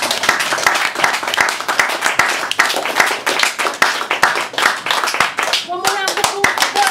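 An audience at a poetry reading applauds, a dense, sustained burst of clapping from many hands, close and steady, with a voice emerging near the end.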